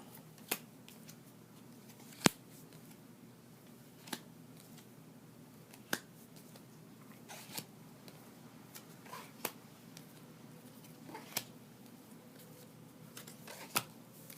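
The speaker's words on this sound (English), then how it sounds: "I feel like it is time to put these cards out" Tarot cards are handled and laid out one by one in a quiet room. Soft, sparse taps and crisp slaps come every second or two, close but faint, with no talking.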